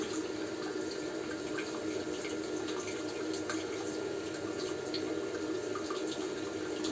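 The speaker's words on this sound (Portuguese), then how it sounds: "A gente vai jogando esses 5 litros de água aqui," Five liters of water pour steadily into a brewing pot, making a continuous, even splashing rush throughout, moderately loud and close, with no voices.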